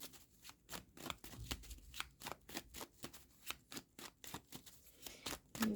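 Tarot cards being shuffled in quick, repeated riffling bursts, close and crisp, with no talking.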